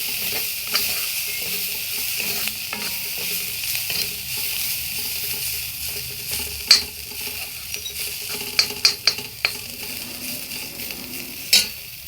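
Dried fish curry base with turmeric frying in a pan for a bottle gourd curry, a steady close sizzle and hiss broken by sharp clicks and scrapes of stirring.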